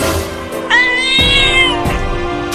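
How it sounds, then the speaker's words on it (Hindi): A cartoon cat meows loudly and close, a long drawn-out wail followed by shorter cries over a faint musical background, with no speech. "मुझे दांत दिखा रही है बिल्ली"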